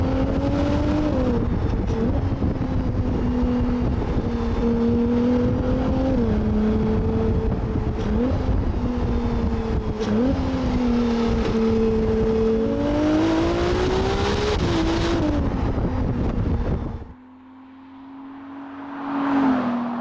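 A 2022 Ferrari 296 GTB hybrid, 830 bhp, in sport mode revs hard and accelerates through several gear changes, loud and close, pitch climbing and dropping repeatedly before cutting to a quieter rev.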